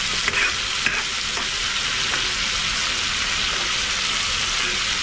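Prawns frying lightly in a pan give off a steady, even sizzle, close and continuous, with a few faint clicks of a utensil near the start.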